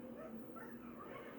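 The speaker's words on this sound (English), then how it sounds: "Look at the puppy!" A puppy gives soft whimpers and small yipping barks, fairly faint against low background noise, with a few high whining tones and no clear talk.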